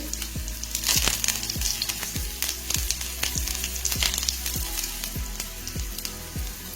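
Sweet potato cutlets frying in oil in a pan: a continuous close sizzle and crackle, with a recurring pattern of short falling tones layered over it at a steady rhythm.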